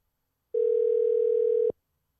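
A steady telephone dial tone sounds while a phone connects to place a call, one continuous clean tone lasting just over a second before cutting off abruptly, then silence.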